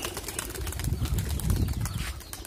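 A small flock of pigeons takes off from a wire, wings flapping and clattering in quick, rough bursts, close by and continuous for a couple of seconds.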